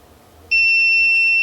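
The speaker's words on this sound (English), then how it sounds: "beeping mode" A multimeter in continuity mode beeps while testing a laptop battery fuse: a steady, clear electronic tone starts partway through and holds unbroken to the end, alone and fairly loud.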